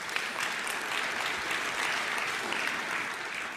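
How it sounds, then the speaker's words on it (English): An audience at a tech event gives a round of applause, a steady wash of many hands clapping that stays even from start to finish with no voices over it. "Give them a round of applause."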